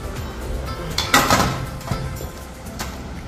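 Metal clanks and scrapes as a cooker pot of popti is opened and flipped outdoors, a sharp clatter near the middle followed by a couple of lighter knocks over a steady background hiss.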